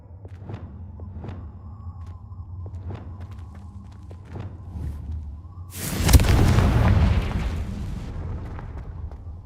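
A loud Confringo blasting-spell explosion in the Hogwarts Legacy video game erupts suddenly as a single heavy, roaring burst. It is preceded by faint game footsteps and thuds, then a sustained rumbling decay.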